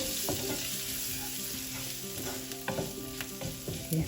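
Ingredients for a cabbage thoran with grated coconut sauté in a pan, with repeated scraping stirs over a steady sizzle, close and fairly loud, with no one speaking.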